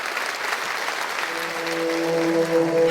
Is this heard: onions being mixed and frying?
no